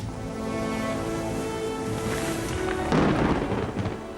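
A thunderstorm sends a low, continuous rumble of thunder. A heavier, louder crash breaks in near the end.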